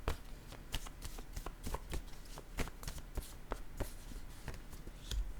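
Oracle cards shuffled and drawn by hand, a steady run of crisp riffling flicks and soft slaps, close and fairly quiet, with no voice over them.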